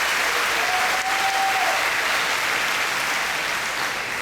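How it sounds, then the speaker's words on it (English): Dense, steady applause from a large audience at a 2016 Bell County High School graduation ceremony, a loud continuous wash of clapping that holds evenly for several seconds with a brief faint whistle-like tone early on. "Give them a big round of applause."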